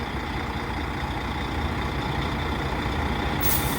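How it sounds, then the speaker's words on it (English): A truck engine idles in a steady, loud rumble, with a hiss of air rising near the end; the truck's air brakes are locked on. "Looks like his air brakes are still locked on it."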